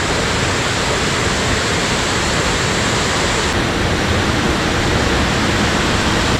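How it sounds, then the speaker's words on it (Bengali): A waterfall at Mohamaya Lake runs with a heavy flow of water, a loud, dense, unbroken roar that fills the whole clip close to the listener, with no voices. "ঝর্ণার যে ফ্লাশ ফ্লাড, এটা দেখে আমি একদম অবাক হয়ে যাচ্ছি যে ঝর্ণার এত পানি"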